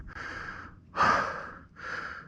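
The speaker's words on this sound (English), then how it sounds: "I'm breathing a little harder." Heavy breathing from a rider on a Sondors Rockstar ebike wearing a Giro Switchblade helmet, three loud close breaths with a strong exhale in the middle.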